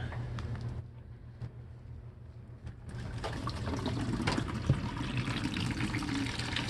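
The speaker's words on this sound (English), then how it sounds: "it's been an hour, and we're gonna try to drain it" Water drains from a 22-year-old hot water heater after a vinegar flush, a steady gurgling rush that grows louder and fuller after a few seconds and then keeps flowing.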